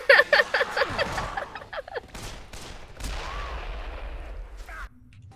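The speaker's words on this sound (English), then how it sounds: "I shoot an explosive barrel" A shot explosive barrel bursts in the zombie game Dead Island, a loud crack and blast followed by a rumbling low roar that fades over several seconds, with gunfire-like bangs at the start.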